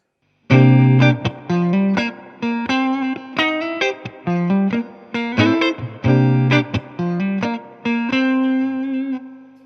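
Overdriven electric guitar plays a bluesy riff of chords and picked notes, with rhythmic pauses between phrases, ending on a sustained chord.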